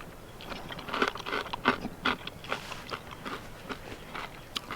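Close chewing of an MRE beef chili macaroni with crunchy corn mixed in, steady crunching bites repeating over several seconds, moderately loud with no talking.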